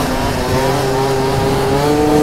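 A Yamaha Aerox 70cc scooter engine whines loudly nearby on a windy day, a steady buzzing drone with pitch slowly rising, wind rumbling underneath.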